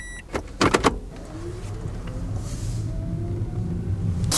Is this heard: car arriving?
yes